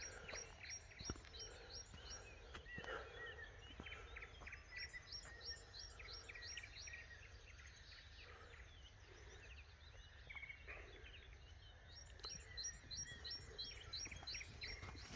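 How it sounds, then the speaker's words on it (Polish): Small birds chirp in repeated quick, high series of notes, fairly faint, over a soft outdoor background beside a pond in the morning. "Ptaszki świerkają."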